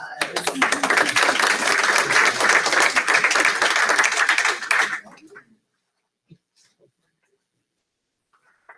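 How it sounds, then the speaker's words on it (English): A school board meeting audience claps for a high school custodian being recognized: a dense, lively round of applause fills the room for about five seconds, then stops abruptly into near silence. "Give him a round of applause."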